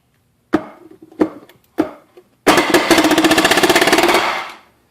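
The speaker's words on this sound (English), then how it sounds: "Let's pound a 3-inch nail in there." A Harbor Freight air palm nailer drives a 3-inch nail, with three sharp separate taps followed by a loud, fast burst of hammering that stops abruptly, close up and without speech.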